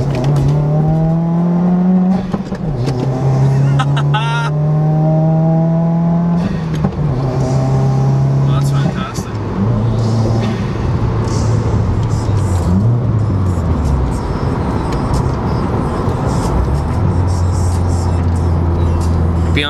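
A Subaru WRX revs hard and accelerates along a rural road, its engine pitch climbing through several gears with brief drops at each shift, loud and close throughout.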